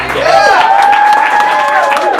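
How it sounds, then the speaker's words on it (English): Studio crowd applause and cheering for a comic book show guest, a loud burst of clapping with whoops rising over a sustained tone and voices carrying across the room. "Can we get an applause for BJ?"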